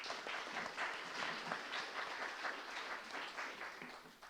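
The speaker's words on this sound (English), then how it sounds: "Can we give another round of applause for our 2 candidates?" Audience at a Seattle climate forum clapping for two candidates, a sustained patter of many hands at moderate distance, fairly quiet overall and tapering slightly toward the end, with no speech over it.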